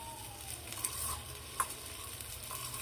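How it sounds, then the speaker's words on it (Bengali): Vegetables frying in a pan on a newly built stove, a steady soft sizzle across the clip with a few faint clinks from stirring. "ভাজি বসাই দিতেছি"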